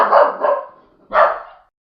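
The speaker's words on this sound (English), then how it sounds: "My dog was barking and I didn't want to have that going on and on." A pet dog barks loudly and close by, first a doubled bark, then a pause, then one more single bark, with no other sound around it.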